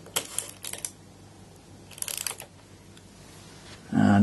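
A Zenit or Cosina SLR film camera's advance lever is wound in short ratcheting mechanical clicks, close up, in two quick bursts, followed by a louder thump at the end.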